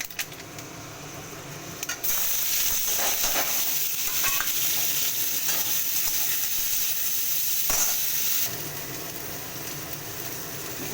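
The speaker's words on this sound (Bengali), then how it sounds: "কড়াতে তেল দিয়ে দিয়েছি, দেবো মেথি ফোড়ন," Fenugreek seeds hit hot oil in a kadai and set off a steady, loud sizzle and crackle that rises sharply after a quiet start and keeps up with light stirring scrapes, with no voices.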